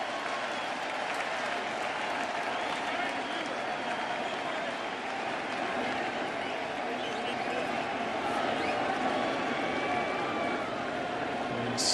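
A World Series ballpark crowd roars and applauds continuously as a batter returns to the box, a dense, sustained wash of cheering at steady loudness throughout.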